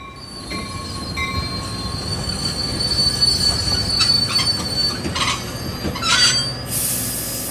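A train rolls along the rails with loud, piercing wheel squeals rising and falling over a steady rumble and faint clicking, close and without talking.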